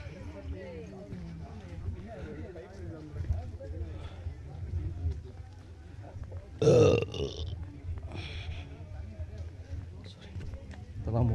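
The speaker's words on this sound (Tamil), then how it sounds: "அதான் ஏப்பம்." A single loud burp after drinking buttermilk on a mountain trek trail, rising abruptly out of outdoor ambience with people talking around it.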